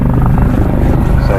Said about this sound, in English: So I suspect they'll just come back into a hover here